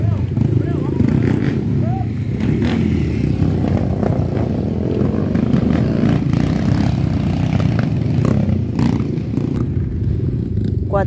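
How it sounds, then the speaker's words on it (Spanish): Motorcycles arriving at the Trilla La Piara 2024 rally in Misiones produce a steady drone of engines and revving throughout, with a voice speaking over the engine noise. "viendo las motos que van llegando"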